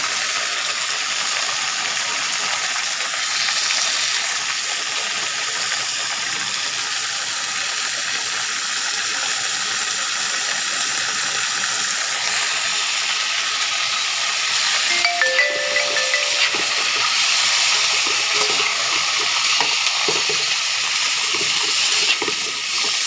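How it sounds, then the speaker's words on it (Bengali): Yardlong beans frying with potatoes in a pan produce a steady, hissing sizzle that stays even and close throughout, with a brief clink of a utensil partway through. "এবার আমি দেব বরবটিটা। এটাও আমি আলুর সাথে খুব ভালো করে"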